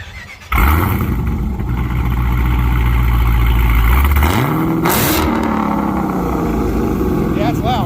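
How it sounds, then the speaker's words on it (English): A 1000hp Jeep Trackhawk cranks over and catches into a loud, throaty idle, then climbs through a sharp rev that settles into a heavy rumble, close by and alone. "we're going to get I would say a cold start."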